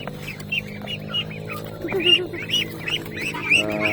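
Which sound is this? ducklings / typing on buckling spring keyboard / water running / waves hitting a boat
ducklings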